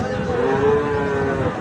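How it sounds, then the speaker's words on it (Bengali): A Sahiwal bull calf at a cattle market lets out a single sustained moo, loud and close, with a rising and falling tone that holds for over a second. "চমৎকার সাইওয়াল জাতের ষাঁড় বাছুর"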